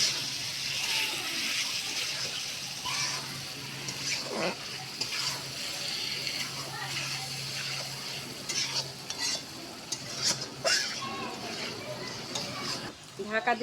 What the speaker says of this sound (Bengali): দেখুন এখন মশলার সাথে চিংড়ি মাছটা কষে নিচ্ছি।